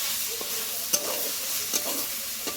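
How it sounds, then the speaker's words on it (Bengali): Chopped onion and garlic fry together in a pan, a soft steady sizzle broken by a few sharp clicks and scrapes of a spatula stirring, with no speech. "এইবার একসাথে সব ভাজা ভাজা হবে"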